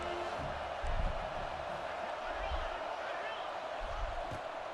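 A steady roar from a stadium crowd in the College Football 26 video game, loud and constant, with faint swells of cheering under a commentator's voice.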